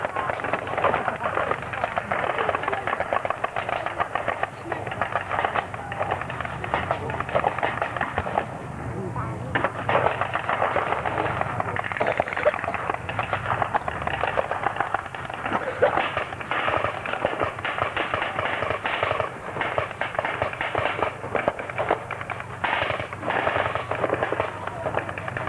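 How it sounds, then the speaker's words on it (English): Rapid crackling gunfire rounds at a WW2 battle reenactment, dense overlapping bursts and pops continuing throughout, mid-distance, with someone talking over them. "being Americans, they can afford to fire off all these rounds"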